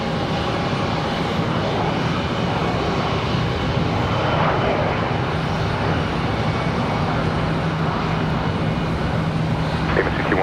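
Airliner engines roar steadily on takeoff at Charlotte Douglas airport, a loud, continuous broadband rumble with a sustained high whine that holds throughout, no voices over it.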